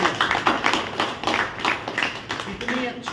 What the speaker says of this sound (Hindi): जोरदार ताली मारा चाहिए।